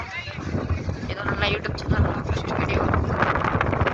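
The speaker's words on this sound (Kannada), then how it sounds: "ಏನು ಗಾಳಿ ಹೇಳೋದಕ್ಕಂತಾನೆ ಅರ್ಥ ಆಗ್ತಿಲ್ಲ ಗೈಸ್" Strong wind buffets the microphone on Gopalaswamy Betta hill in a steady roar with gusty swells, while a person talks over it.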